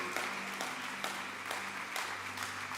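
A church congregation claps steadily through a sermon break, dense broadband applause with sustained keyboard-like tones underneath, no talking.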